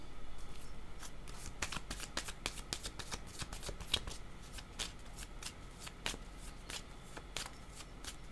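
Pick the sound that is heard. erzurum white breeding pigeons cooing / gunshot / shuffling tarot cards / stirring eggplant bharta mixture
shuffling tarot cards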